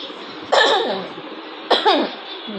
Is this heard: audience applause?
no